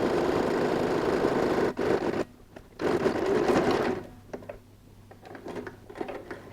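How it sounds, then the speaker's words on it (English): Sewing machine edge stitching velcro tape onto a laptop case, loud motor whir in bursts that start and stop, with short pauses and lighter rattling as the fabric is repositioned. "Now we go ahead and do an edge stitch on this fold."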